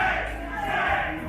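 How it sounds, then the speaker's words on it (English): A wrestling crowd roars in support of wrestler Shane Cerrito, a dense, sustained wall of cheering voices filling the arena without a break. "listen to the crowd get behind Shane, Cerrito"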